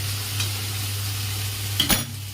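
Prawns frying in a pan with potato and pointed gourd, a close steady sizzle with a low hum beneath, broken near the end by a couple of sharp stirring scrapes of a spatula.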